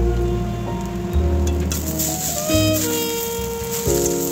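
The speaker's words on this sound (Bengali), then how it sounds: "এবার একটু ভালো করে ভেজে নিচ্ছি চাউমিনগুলোকে।" Boiled chowmein noodles fry in oil in a wok with a soft patter and crackle of sizzling, while a steady background tone shifts pitch a few times and no one speaks.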